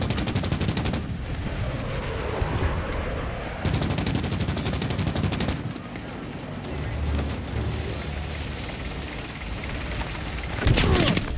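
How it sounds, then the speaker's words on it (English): Gunfire in a video game battle near an enemy-held tank, loud sustained bursts of automatic shooting that cut in and out in blocks, with a heavy explosive boom near the end. "They're shooting at him."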